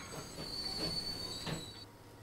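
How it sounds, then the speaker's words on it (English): Train wheels squealing as the train brakes in the railway game Transport Fever, a steady high-pitched metallic screech held over a low rolling rumble with no talk. "Train isn't slowing down."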